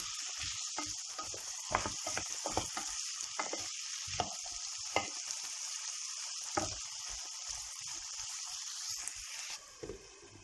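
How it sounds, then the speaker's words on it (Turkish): Potatoes and carrots fry in a pan, a faint steady sizzle running throughout with frequent irregular stirring scrapes and taps, no talking. "Bir iki dakika kızarttım patateslerin üzerine havuçları ekliyorum. Havuçlarla da 1-2 dakika şöyle çevireceğim."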